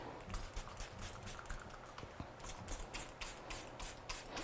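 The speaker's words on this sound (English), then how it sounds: "I'm just going to spray it with some water." A spray bottle mists water onto watercolour paper in a series of quick, soft, breathy pumps, about a dozen in an uneven rhythm, faint and close.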